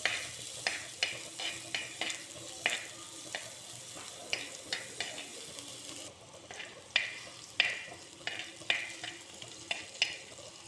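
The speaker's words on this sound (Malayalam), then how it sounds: "ഇനി ഇതിലേക്ക് വേപ്പില ഇട്ട് കൊടുക്കാം. നമുക്ക് നന്നായിട്ട് ഇളക്കാം." Onion and curry leaves fry in a pan for a prawn curry with tomato and ground coconut, a steady sizzle broken by regular sharp scraping clicks as the mix is stirred, close and fairly quiet, with no talking.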